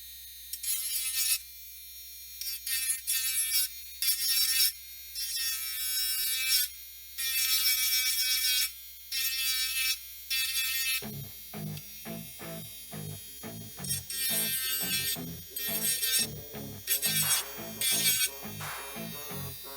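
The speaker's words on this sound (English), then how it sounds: "so now we're gonna start grinding" A high-pitched rotary power tool grinds a head and neck part of a Warhammer 40k Chaos Knight Rampager of Khorne model kit in short, repeated buzzing bursts, and music then enters partway through and plays over the buzzing.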